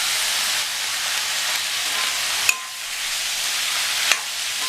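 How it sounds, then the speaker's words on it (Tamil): Ground coconut being stirred and sautéed into a vegetable masala in a pan gives a steady soft sizzle and hiss, with two brief sharp scrapes of a spoon against the pan. "அதுக்கப்புறமா நம்ம அரைச்சி வச்ச இந்த தேங்காய் இதை சேர்த்துக்கலாம்."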